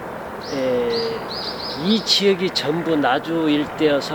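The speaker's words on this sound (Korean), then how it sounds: "지금도 새소리 들리죠?" Birds in a natural garden at Jukseolheon in Naju, amid orchard country, give repeated chirps and cooing calls, fairly close and steady, while a person talks over them.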